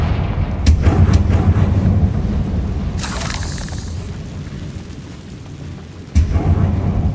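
Confringo fire spell blasts from Hogwarts Legacy gameplay: a few sharp booming impacts with rumbling tails, one near the start, a burst around the middle and another heavy hit near the end, loud over a low continuous game ambience.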